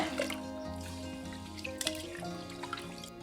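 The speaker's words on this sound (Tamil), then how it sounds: "இப்போ ரெண்டு மூணு டைம் நல்லா தண்ணி விட்டு கழுவிக்கலாங்க" Seeraga samba rice and moong dal are rinsed in water for pongal, with gentle dripping, trickling and sloshing sounds close by and steady background noise.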